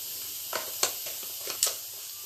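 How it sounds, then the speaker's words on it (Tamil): Mustard, fenugreek and cumin seeds temper in hot coconut oil for sambar, a soft steady sizzle broken by a handful of sharp crackling pops, close by. "சாம்பார் தாளிக்க போகிறோம் தேங்காய் விட்டு கடுகு ஒரு பிஞ்சு வெந்தயம் ஒரு பிஞ்சு ஜீரகம்"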